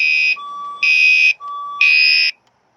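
A building fire alarm sounds three loud electronic horn blasts, separated by a steadier, lower single tone in the gaps, before falling silent.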